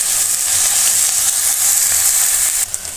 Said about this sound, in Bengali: আবার নাড়াচাড়া করে কষিয়ে নেবো, যাতে পেঁয়াজ রসুনের কাঁচা গন্ধটা না থাকে